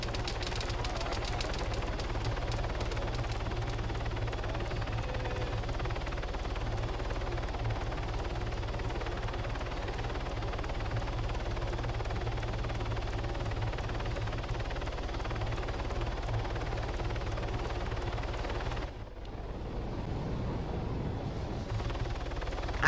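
Police helicopter in Arma 3 Altis Life, a steady low rotor and engine drone holding throughout before a brief drop near the end, with no speech.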